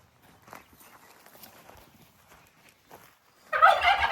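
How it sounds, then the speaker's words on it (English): Quiet shuffling and faint movement, then a loud burst of turkey gobbling near the end, close and raspy. "We have our lovely turkeys that are very quiet and conforming."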